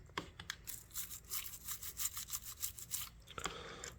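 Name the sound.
toothbrush and water scrubbing dirt from a vintage electrician's knife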